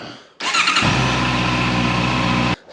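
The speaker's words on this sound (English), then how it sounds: "Rev your engines in 3, 2, 1." An engine roars up from a start into a steady loud rev, holding a strong droning note for about two seconds before cutting off abruptly.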